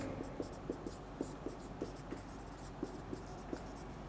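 Marker or chalk writing out a definition on a board during a Class 11 set theory lecture on power sets, heard as a steady string of short, faint scratchy strokes over a low room hum.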